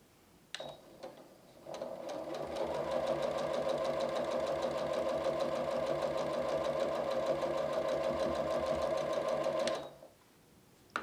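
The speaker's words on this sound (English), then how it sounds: "And I'm going to sew these two together." Sewing machine stitching two quilt blocks together, running in one steady, rapid, close-up whir for about eight seconds before stopping, with a brief click at the start and end.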